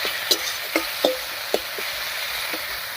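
Marinated snakehead (shol) fish going into a pan of softened tomato, giving a steady sizzle with a few sharp clacks of the spatula spaced through it.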